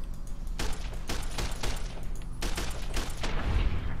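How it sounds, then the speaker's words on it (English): Submachine gun fire in the video game Fallout New Vegas crackles in repeated rapid bursts, loud and close, with short gaps between volleys. "Looks like he had one of those submachine gun guns"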